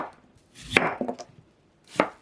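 A knife cuts thick slices of apple on a board, two crisp chopping strokes close together and then a third after a short pause, with no talk.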